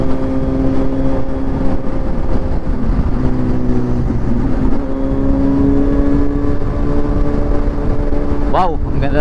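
Engine noise from a Kawasaki motorcycle riding on a city road, the steady drone of motors and traffic continuous and fairly loud, with a brief rising whine near the end.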